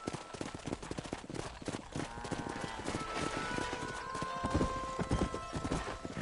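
A horse gallops in the video game Red Dead Redemption 2, hooves pounding in a fast, loud, continuous clip-clop rhythm, with brief snorts and ringing game sounds layered over it and no talk.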